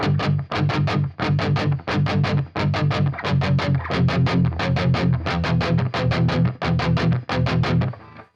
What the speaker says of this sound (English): I thought it did a great job of recreating that distortion tone.